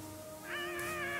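A cat meows in the South Park: The Fractured But Whole video game, a single drawn-out, wavering meow rising in the second half over a steady electronic hum, clear and fairly loud.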